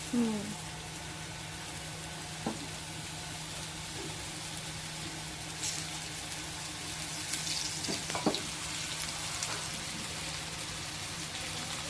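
Halwa (pomfret) fish frying in a pan, giving a quiet, continuous sizzle with an occasional faint clink or scrape, soft and steady throughout with a low background hum.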